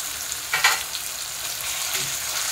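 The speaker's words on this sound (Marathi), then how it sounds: "आपण आता आलं लसणाची पेस्ट टाकूया" Ginger garlic paste frying in a pan for dhaba-style egg keema, a steady close sizzle with a brief louder burst of spattering and stirring near the start, no voices.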